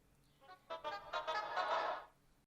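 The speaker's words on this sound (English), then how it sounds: "which is basically just the lead frozen out and pitched up" A frozen, pitched-up synth lead used as a beat intro swells into a bright, buzzy sustained tone for about a second and a half, then fades out, quiet and alone.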